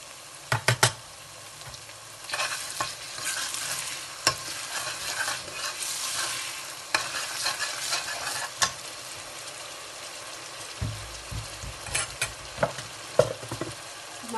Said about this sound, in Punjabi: ਟਮਾਟਰ ਆਪਣੇ ਫਰਾਈ ਹੋ ਜਾਣ ਫਿਰ ਆਪਾਂ ਬਾਕੀ ਮਸਾਲੇ ਪਾਉਂਦੇ ਹਾਂ।